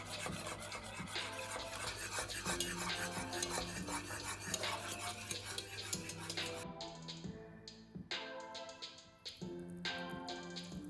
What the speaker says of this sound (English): Add the baking soda and give it a quick stir until smooth while the mess is still hot.